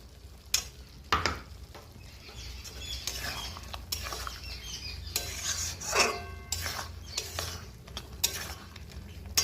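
Poppy seed paste with potatoes is stirred in a metal pan, giving repeated scrapes and clinks up close. Irregular bursts of knocking sit over a faint, steady sizzle.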